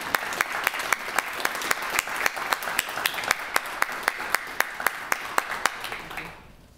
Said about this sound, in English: Please help me in giving Jama a warm round of applause for this very well-deserved award.